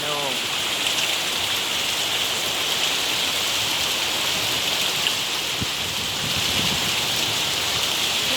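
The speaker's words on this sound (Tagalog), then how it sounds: "Oh, lakas ng hangin, oh." Steady heavy rain falls outdoors with gusts of strong wind rushing past on a rainy afternoon, a dense continuous hiss close to the microphone with brief faint knocks underneath.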